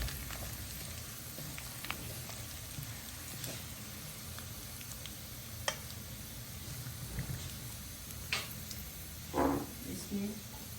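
Desi garlic and red chili tadka sizzling in hot oil, a steady close crackle with occasional sharp pops and a few brief stirring clinks.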